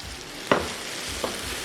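Tofu with salted egg is stir-fried in a wok. A soft, continuous sizzle runs throughout, broken by a few sharp clinks of the spatula against the pan.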